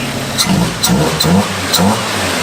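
A rebuilt Jeep 2.5-liter four-cylinder with a 30-over bore, shaved head, four-hole injector and 4-liter throttle body swap revs in several short bursts, each rise and fall distinct, close and fairly loud.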